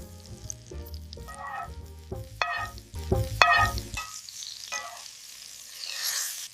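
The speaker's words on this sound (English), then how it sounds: "Baste gently and let the butter do the magic." Steak sizzling in a pan while being basted with butter, close frying crackle with spoon clinks and stirring sounds, fading to a softer hiss toward the end.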